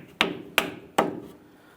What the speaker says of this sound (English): use a rubber mallet to drive it into place